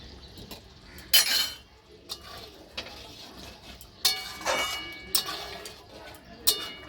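A spoon clinks and scrapes against a pan while jackfruit kofta curry finished with ghee and garam masala is stirred, giving scattered bright metallic taps and short scrapes at an irregular pace, close by, with no talk.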